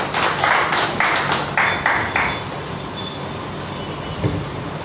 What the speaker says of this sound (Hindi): जोरदार तालियां बजाएं उनके लिए